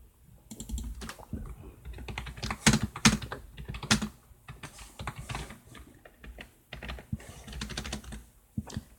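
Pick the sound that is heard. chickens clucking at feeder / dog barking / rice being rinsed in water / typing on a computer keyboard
typing on a computer keyboard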